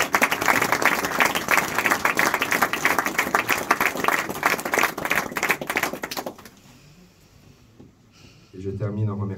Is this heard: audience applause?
yes